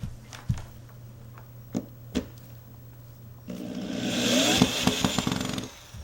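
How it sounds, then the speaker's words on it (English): A power screwdriver drives screws into a wooden hovercraft base to hold a Frisbee disc at its center. A few sparse knocks come first, then a close, steady whirring motor whine sustains for a couple of seconds. "we're going to put in the screws for the disc to go into the middle"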